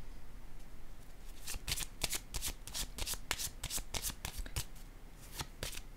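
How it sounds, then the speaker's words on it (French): Tarot-style cards are shuffled briskly by hand during a card reading, with a quick run of crisp papery riffles and flicks, close and clear, with no talk. "Je vais déposer une carte ici."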